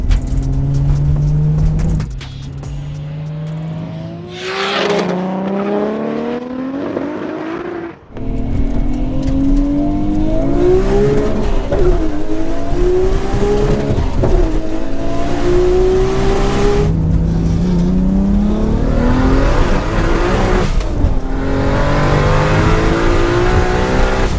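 Toyota Supra accelerating hard in a roll race from about 40 mph, loud close engine revving with repeated rising pitch sweeps as it shifts through gears, a brief dip mid-run, alongside another car's engine.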